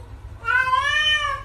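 A domestic cat gives one drawn-out, rising-then-falling meow, close and clear against a quiet room with low background hum.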